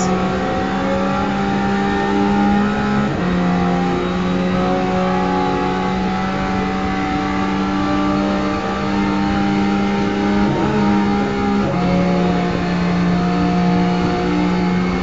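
Ferrari race car engine in the GTR2 racing game on the Nordschleife, a steady loud high-revving drone held at near-constant pitch, dropping briefly at two gear shifts before climbing again, with no talk.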